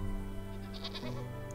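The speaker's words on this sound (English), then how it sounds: "And there's the sheep we've been looking for." A sheep bleats in the video game Wytchwood, one wavering, nasal call with a drop in pitch partway through, heard close over a soft musical background.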